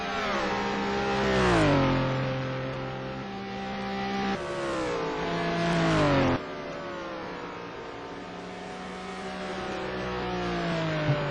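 Touring race cars of the STC Black Cup 2009 scream around the Rouen circuit, with a loud, close engine note climbing in pitch and then dropping sharply at gear changes, over a continuous roar of the pack.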